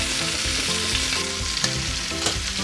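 Chicken fajitas sizzle loudly and close in a pan on medium-high heat, a dense, bright frying hiss with rhythmic clatters as the strips are tossed, and no voices.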